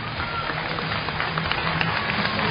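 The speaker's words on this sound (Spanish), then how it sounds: "el cálido aplauso de bienvenida" An audience at a boxing match in Paysandú applauds officials, producing a steady, dense patter of many hands that stays at an even level with no clear peaks.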